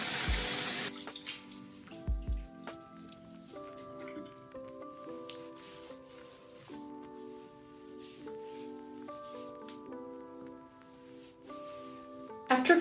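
Tap water runs into a sink while a face is washed with reusable cloths, a steady splashing stream with a few louder gushes near the start, heard alone without talk.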